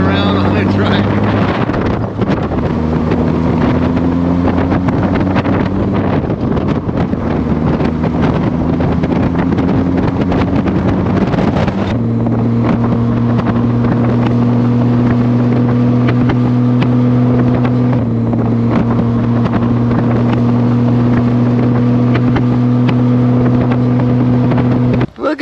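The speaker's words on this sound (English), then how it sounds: "Cruising around on a trike." A motor trike cruising on a road near Datil, New Mexico, with a steady droning engine and shifting pitch through gear changes, all under heavy wind buffeting on the microphone, with speech present.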